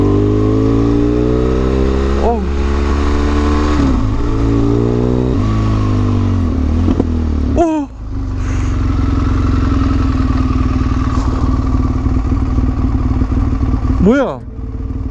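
Motorcycle on a deserted road turning around, its engine loud and close, revving and dropping through several gear changes with a brief cut near the middle, continuous throughout.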